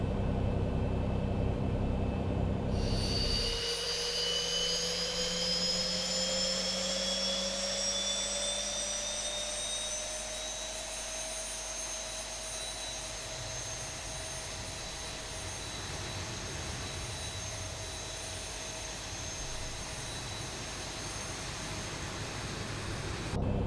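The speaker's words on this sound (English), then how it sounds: "we'll go ahead and start engine number 2" Engine number 2 of a Boeing 737 spools up in the X-Plane 11 flight simulator, a rising jet whine that climbs in pitch over several seconds and then settles into a steady, droning turbine hum.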